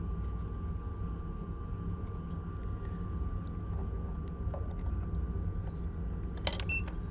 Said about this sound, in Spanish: Ha arrancado a la perfección a la segunda, sin ningún problema